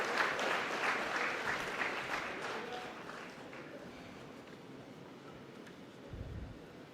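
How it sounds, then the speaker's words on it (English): An audience at the ICSI 27th Conference applauds as a special guest is felicitated with a Puneri Pagri. The clapping is loud at first, then gradually thins and fades toward the end. "Can we have a huge round of applause as we felicitate our special guest?"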